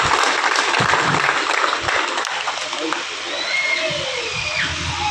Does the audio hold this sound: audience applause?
yes